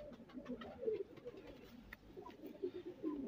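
Fancy pigeons, a pair of Frozpuri, Rampuri, Ali wala, Golden and Teddy birds, give soft, repeated throaty coos, fairly close but quiet, with short pauses between phrases.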